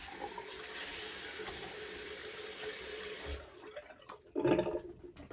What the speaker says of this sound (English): Rinse off the alum.